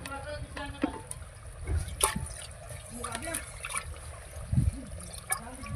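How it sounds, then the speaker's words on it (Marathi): Cold water poured into a cooking pot on a traditional Maharashtrian chulha, a soft trickling and splashing that comes and goes beneath people talking nearby. "आता थंडच पाणी टाकू."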